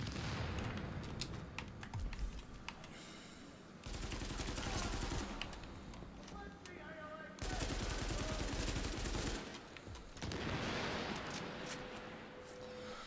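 Gunfire in the video game The Division, dense rapid bursts of shots running in long sustained stretches with brief breaks between them, loud and continuous, no talk over it.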